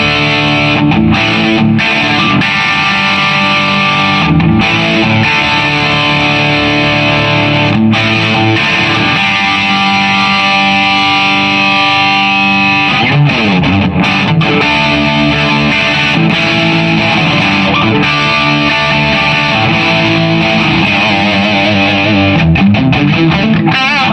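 Electric guitar runs through a gainy overdrive pedal, loud and saturated with thick sustained distorted chords and riffs played continuously in a rock style, close and alone without any speech.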